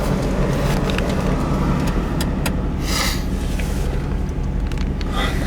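A 1966 Ford Mustang convertible drives along with a steady engine rumble and road noise, heard from inside the car at a constant level throughout.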